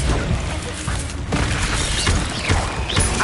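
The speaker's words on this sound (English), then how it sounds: "Expelliarmus." Expelliarmus spell cast in Hogwarts Legacy, a dense booming burst with crackling, shattering impacts layered over loud continuous game combat noise.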